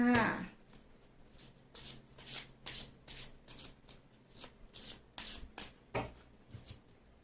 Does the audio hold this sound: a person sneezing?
no